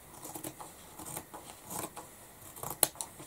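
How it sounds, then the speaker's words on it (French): Scissors snip through fabric being trimmed straight for appliqué, a series of quiet, irregular close cuts with one sharper snip near the end and no voices. "je vais recouper droit"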